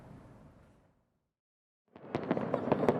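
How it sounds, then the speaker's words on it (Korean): Fireworks burst over the Han River park at the Seoul World Fireworks Festival. A fading rumble drops to near silence, then a dense run of sharp crackling pops and bangs erupts, moderately loud and distant. "폭죽음이 울려 퍼지며 형형색색의 불꽃이 가을 밤하늘을 수놓습니다."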